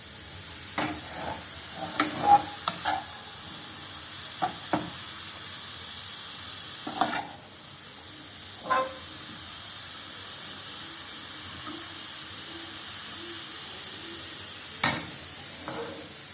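Grated carrot for carrot halwa frying in a pan under a soft steady hiss, with intermittent scraping stirs and spoon strokes spaced irregularly across the clip.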